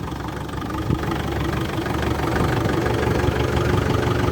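A tractor engine running steadily at idle, a dense close low rumble with knocking texture that swells slightly toward the end, with no talking.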